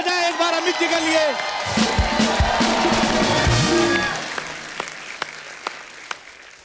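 Loud studio audience applause for a guest on the Kapil Sharma comedy show, dense clapping and cheering mixed with musical backing, fading after about four seconds into a few scattered claps.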